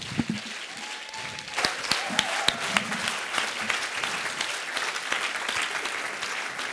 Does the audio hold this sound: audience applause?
yes